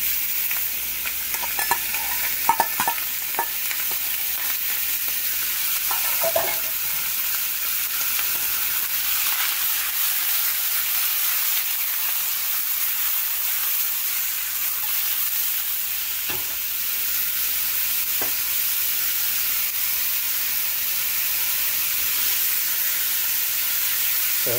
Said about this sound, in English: get a pan, add some oil, get it hot, hot, hot. We're going to add our meat.